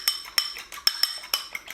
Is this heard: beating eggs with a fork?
yes